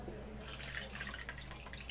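Water trickles and drips faintly into a cup during a kitchen drink-mixing project, a soft, quiet splashing with light irregular drops.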